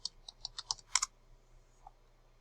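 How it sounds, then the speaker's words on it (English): Quick keystrokes on a computer keyboard, about eight crisp clicks in a rapid burst, then a pause and one last tap, close and clear in a quiet room with no talking. "Okay, and I'm going to type in Ireland."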